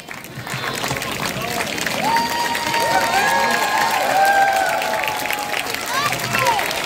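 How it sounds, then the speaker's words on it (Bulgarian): An audience at a Lindy Hop dance event in Ruse applauds and cheers as the hosts take a bow, a sustained wash of clapping mixed with raised voices and calls that swells midway. "Още веднъж бурни аплодисменти за Орлин Павлов, Весела Морова, Димчо Рупчев"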